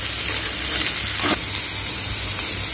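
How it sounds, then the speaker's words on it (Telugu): Okra (bhindi) frying in a pan, giving a steady, loud, continuous sizzle with a brief swell of hiss midway and no talking. "చూడండి బెండకాయలు సగం వరకు వేగిపోయినాయండి. ఇంకా కొద్దిగా ఇంకా కొంచెం వేగనిచ్చుకుందాం."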